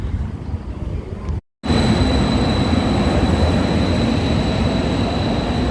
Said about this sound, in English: now you can hear my train coming